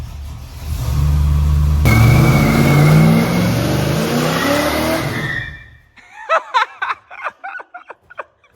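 A Harley-Davidson Dyna motorcycle engine revs loud and close for several seconds, rising in pitch, then cuts off and leaves a few short laughs.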